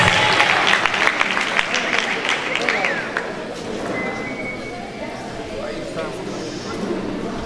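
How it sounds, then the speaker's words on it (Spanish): A crowd at a local queen coronation ceremony applauds, with strong clapping at first that thins and fades into general crowd murmur and voices. "Un aplauso,"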